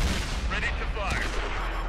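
A tank cannon fires once in World of Tanks on Xbox One, a single booming shot with a brief rumbling tail over steady game ambience.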